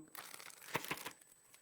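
A plastic bag crinkles and rustles close up as strawberries are dropped inside, a dense crackly burst of handling noise lasting just over a second.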